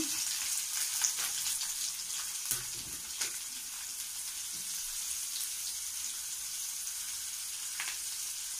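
Onion pieces dropped into hot oil with cumin seeds, a soft, steady sizzle in a home kitchen with a few light clinks and taps from the spoon or pan.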